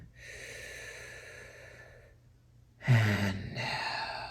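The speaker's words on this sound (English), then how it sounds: "Take a deep breath in." A single deep breath in during a calming hypnosis session: a long, soft, airy inhale, a short pause, then a sharper, louder breath near the end, close to the microphone with no speech.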